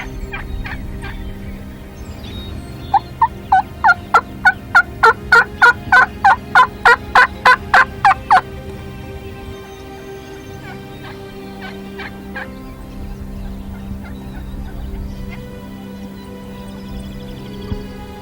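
Several big wild turkey gobblers gobble loudly and close in a rapid rattling series lasting about five seconds, with quieter, more distant gobbling calls following afterward.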